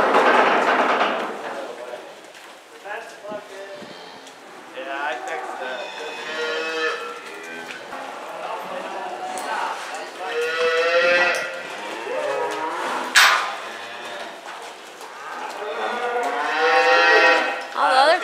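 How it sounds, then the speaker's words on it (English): Pastured cattle being loaded up on a farm, with several cows mooing repeatedly through the clip, some calls loud and close, others farther off, overlapping and drawn out. People talk intermittently between the calls. "Hear them all mooing?"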